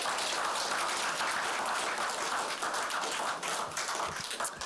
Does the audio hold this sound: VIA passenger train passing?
no